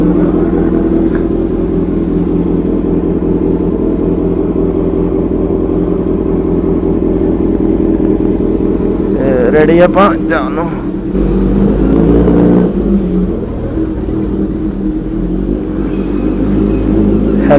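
Superbikes, a Suzuki Hayabusa and a Kawasaki Z900, warm up with a steady idling drone, then blip their throttles in a short burst of revs midway, close by, while someone talks over the engines.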